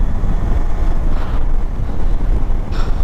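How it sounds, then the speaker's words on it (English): A Hero Xpulse 200 motorcycle ridden on the road, heard as heavy, continuous wind buffeting on the microphone with a low rumble, loud and steady throughout. "So today I'm riding the Hero X Pulse 200"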